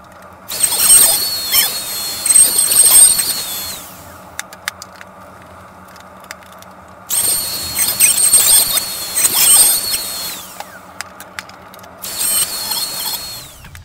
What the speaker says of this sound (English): I could take a 3/8 round over bit with my router and round off all the edges